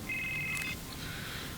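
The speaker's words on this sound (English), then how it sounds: "here comes John's phone call." A brief electronic phone ring trills once over a dull, noisy background in the TV show Supernatural, followed by a fainter tone as it fades.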